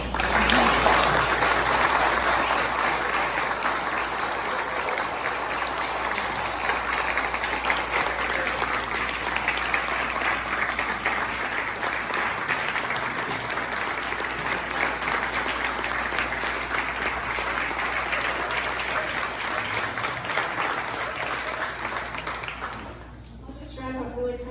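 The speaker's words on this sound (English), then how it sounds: "could you just give another round of applause to the speakers?" A town hall audience gives the speakers a long, steady round of applause, dense and sustained for over twenty seconds before dying away at the very end.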